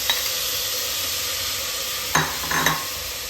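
Washed mutton pieces sizzle in hot masala for a spicy mutton curry, a steady close hiss broken by a few clinking stirs near the end.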